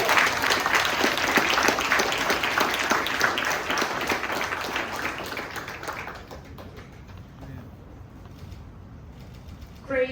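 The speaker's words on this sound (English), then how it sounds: "Thanks everybody for all your applause and for supporting." Audience applause at a startup award ceremony in Barcelona, dense clapping for about six seconds that then thins out and fades, with a voice surfacing near the end.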